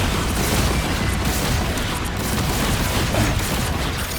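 In Marvel Rivals, rockets fire and explode in a dense, loud, continuous barrage of booms and blasts with no pauses.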